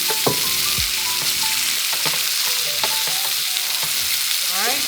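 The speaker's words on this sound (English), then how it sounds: "we're going to go ahead and brown this other side" Meat browns and sears in a hot pan for a healthy Thanksgiving dish, a loud steady sizzle close up with scattered utensil clicks and scrapes, no voices.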